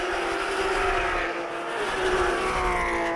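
Porsche 997 Cup S race car engine heard from an onboard camera at Dijon-Prenois circuit, a steady loud drone with rising and falling pitch held for the whole stretch, no talk over it.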